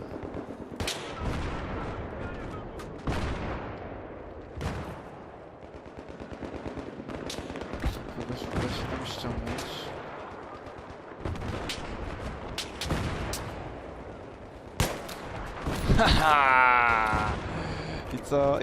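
Bursts of Battlefield 3 gunfire, single shots and rapid volleys, crack through the clip while a person talks excitedly between them.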